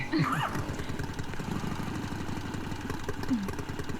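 A motorcycle engine running at a steady idle, a low, rough putter throughout with brief chirpy higher sounds near the start and later, moderately quiet.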